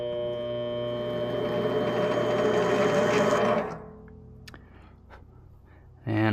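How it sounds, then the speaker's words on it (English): A Vevor mini lathe in forward spindle direction takes a spring pass while cutting threads for motorcycle mirror parts: a loud steady whirring motor for about three and a half seconds, then it winds down to quiet with a few clicks and a brief burst at the end. "Forward spindle direction and just spring pass it."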